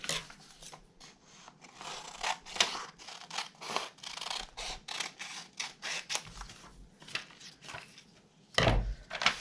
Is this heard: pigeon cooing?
no